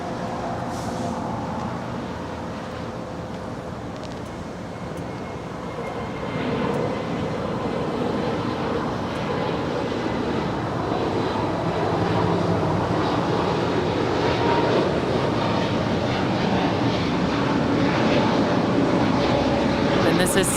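A Spirit Airlines Airbus A320neo jet at LAX, bound for Chicago O'Hare, builds from a steady roar to a louder, sustained engine rush over about twenty seconds, with background chatter mixed in.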